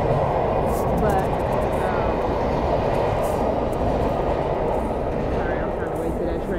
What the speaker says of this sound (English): sorry, I'm trying to wait till that train go by